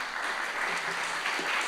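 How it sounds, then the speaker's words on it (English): An audience at an evening class applauds in a dense, even wash of clapping that holds steady for nearly two seconds, with no single clap standing out. "Somebody clap if you learned a lot so far tonight."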